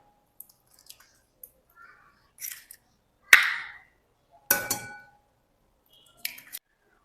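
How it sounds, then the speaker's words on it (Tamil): Two eggs cracked into a bowl while preparing fudgy chocolate brownies, heard as sharp close taps and cracks with wet splats of egg falling in, several short separate sounds amid quiet pauses. "இப்போது ஒரு பவுலில் 2 முட்டையை உடச்சி ஊற்றிக்கலாம்."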